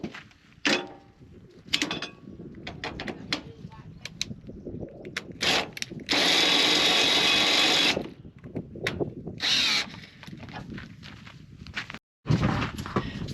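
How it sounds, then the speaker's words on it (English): A cordless drill winding down caravan legs whines steadily for a couple of seconds amid clanks and footsteps, then briefly runs again in a shorter burst. "I run it all off the drill"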